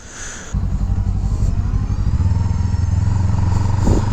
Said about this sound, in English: The gas motor stayed running that whole time